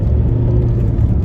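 A Vauxhall Insignia 2-litre diesel with a stage 1 remap cruises along, its steady, low engine drone and road rumble heard from inside the cabin, continuous and fairly loud with no voices over it.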